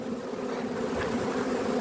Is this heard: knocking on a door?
no